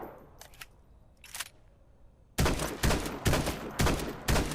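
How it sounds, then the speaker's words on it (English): Rapid bursts of video game gunfire as a player shoots zombies, a few faint shots first, then loud repeated volleys in quick succession. "I didn't know I could shoot these zombies"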